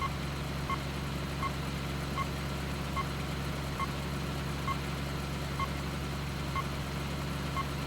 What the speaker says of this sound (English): just that subtle sound of the beeping of the radar detector